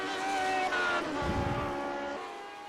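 Race car engine in the iRacing simulator, a sustained harmonic drone with gear-related pitch shifts and a brief low rumble, fading slightly toward the end.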